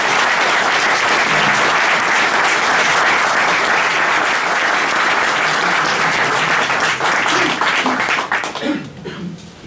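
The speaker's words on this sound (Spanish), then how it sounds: "pido un aplauso para Juan Antonio" Sustained applause from an audience welcoming a speaker at a talk in Spain, dense and steady clapping filling most of the clip before tapering off into scattered claps at the end.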